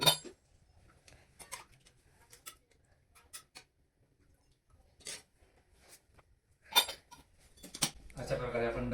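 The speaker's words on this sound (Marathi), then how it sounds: "अशा प्रकारे आपण डबे पॅक करत असतो." Steel tiffin lunch boxes being packed with food, with scattered clinks and taps of metal containers and lids, sparse and close, ending in a longer rattling clatter, while someone speaks in between.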